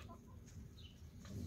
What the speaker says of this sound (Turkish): Yani komşumuzun tavukları arkadaşlar.